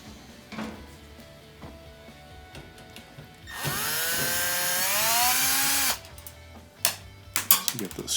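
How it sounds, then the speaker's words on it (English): A power driver runs steadily for a couple of seconds as screws are backed out of a washing machine fill valve, with clicks and handling clatter before and after. "to remove just two screws here that hold on the fill valve"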